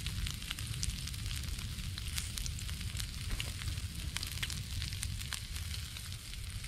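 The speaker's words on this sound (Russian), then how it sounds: "Добавляем яйца." Eggs frying in rendered fat, giving a steady, dense sizzle with scattered crackles and pops, close and constant throughout.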